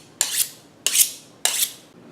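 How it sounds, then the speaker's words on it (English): A kitchen knife drawn three times across a sharpener or steel at a 45-degree angle, each pass a bright metallic scrape lasting about a quarter second, evenly spaced, close and alone. "Always sharpen your knives before you use them."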